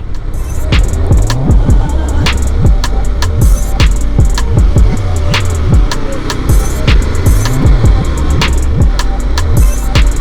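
A motorcycle rides along an open, empty road, its engine humming steadily and loud throughout, with wind rush and repeated shifts in engine pitch as the bike rolls on.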